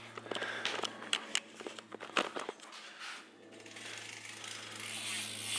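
Quick Twitch BMX hub freewheel ratchet, clicking in rapid bursts as the wheel coasts, followed by a smooth rolling whir, heard up close.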